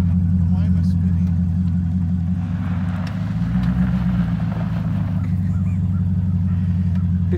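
Car stuck in a driveway with its wheels spinning, heard as a steady low engine drone that swells into a heavier rumble midway, with people talking over it.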